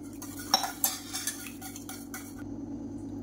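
A whisk scrapes and clinks against a pot while stirring black kavuni rice and ragi porridge, several quick metallic taps and strokes over a low steady hum, quiet and close, then fading.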